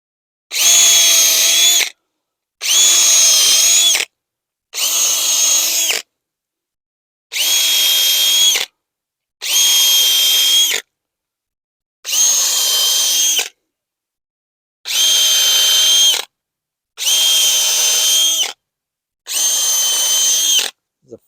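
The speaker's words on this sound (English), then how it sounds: "This is a 5/16 drill bit." Nine separate bursts from a cordless power drill with a 5/16 bit boring holes in logs for mushroom plugs, each whining run about a second and a half long with short silent pauses between, close and loud.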